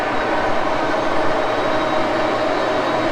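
An Axelson lathe turning at about 628 RPM while feeding a light cut, producing a steady, loud mechanical drone with a faint whine, unbroken for the whole stretch and with no talking.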